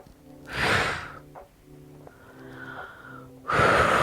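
Heavy exhales during a core workout aimed at easing bloating: two strong, loud breath bursts frame a quieter stretch of softer breathing, all close to the microphone.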